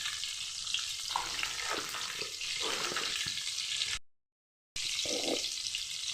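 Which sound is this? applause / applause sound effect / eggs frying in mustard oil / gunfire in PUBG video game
eggs frying in mustard oil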